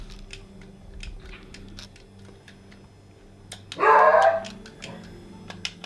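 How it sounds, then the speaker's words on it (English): A beagle lets out one loud, drawn-out bark partway through, standing out above a steady indoor hum and faint ticking. "Beagles do have quite the bark."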